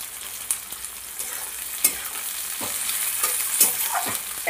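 Fat sizzles and fries in a pan for jackfruit curry, a constant bright hiss punctuated by a series of scraping stirs and clacks of the utensil, close and with no talking.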